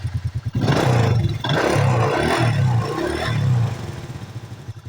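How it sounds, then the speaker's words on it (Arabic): A small car engine, just repaired for a combustion problem, idles and runs steadily close by, with a loud mechanical clatter and low rumble throughout, easing off near the end. "الماكينة راه في حالة جيدة، ها هي كتسمع"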